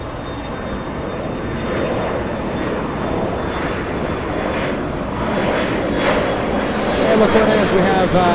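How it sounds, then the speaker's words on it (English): A Boeing 777 on the Honolulu flight lands at LAX, producing a broad, steady jet roar that grows slightly louder toward the end while a person talks over it. "This 777 landing almost an hour early today."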